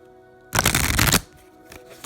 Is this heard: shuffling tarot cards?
yes